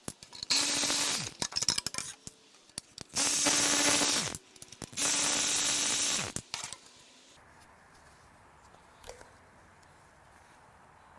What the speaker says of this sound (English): Now we get to remove these Toyota bolts I put in here.